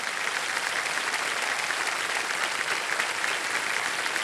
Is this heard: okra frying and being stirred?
no